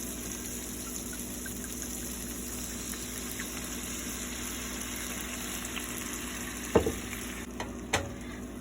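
Steady sizzling fills a hot pan for pan-seared cod as white wine goes in, with a few sharp knocks of a utensil near the end.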